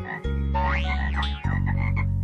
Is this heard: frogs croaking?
yes